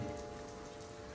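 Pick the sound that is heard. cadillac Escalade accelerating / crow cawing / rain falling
rain falling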